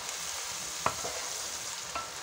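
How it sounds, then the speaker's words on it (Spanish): Tomato pulp from ripe tomatoes, for an Asturian bean stew, fries and is stirred in a pot over high heat: a steady soft sizzle with a few close spoon scrapes and knocks, no voices. "Ahora vamos aquí a freír la carne del tomate"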